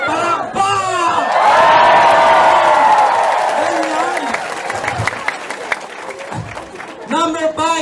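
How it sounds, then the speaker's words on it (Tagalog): A live audience at a seminar talk bursts into loud, sustained applause mixed with cheers and whoops. The clapping swells, then slowly fades, and a speaker's voice comes through at the start and end. "Palakpak!"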